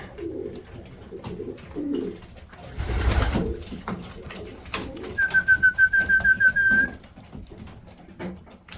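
About 110 pigeons kept in a loft, with soft cooing calls under general rustle and activity, a clear run of repeated rhythmic notes standing out near the middle, fairly close.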